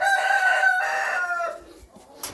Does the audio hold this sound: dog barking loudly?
no